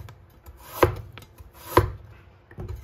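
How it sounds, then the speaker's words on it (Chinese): Kitchen knife slicing a peeled carrot into thin pieces on a cutting board, two sharp, clear chops roughly a second apart between quieter rubbing and handling sounds. "一块去皮的胡萝卜，改刀给它切成薄薄的厚片"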